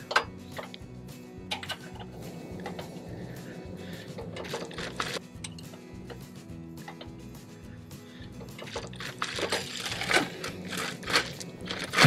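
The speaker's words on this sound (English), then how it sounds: "first thing we're going to do is lower the stand" Crank handle lowering the stand on a bumper pull camper, a steady run of fast mechanical clicks and gear ratcheting that stays close and fairly even, growing a little louder and busier toward the end.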